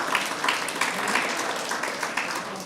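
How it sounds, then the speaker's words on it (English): Audience applause for the speakers after welcoming speeches at a symposium, fairly quiet, continuous clapping with some sharper individual claps standing out. "let us give a round of applause to Mr. Alcazar and our speakers for the welcoming speeches"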